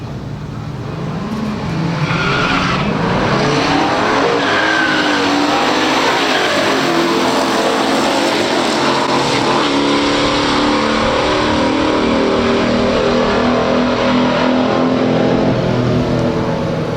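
A 1968 Firebird Ram Air II and a 1967 Chevelle SS launch in a pure stock drag race, a loud sustained roar of V8 engines and tire noise that builds and holds throughout.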